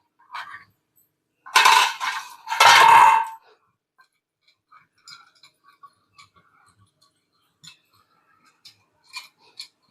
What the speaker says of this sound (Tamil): அதுக்குள்ளே இட்லி தட்டில் எண்ணெய் தடவிடலாங்க